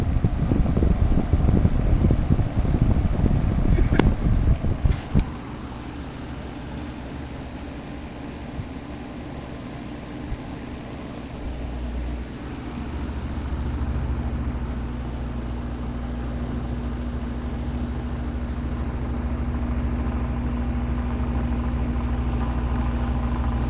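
An Edison box fan runs on high speed with a steady, broad whooshing hum and a low motor drone, after a burst of rumbling handling noise at the start.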